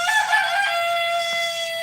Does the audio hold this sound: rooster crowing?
yes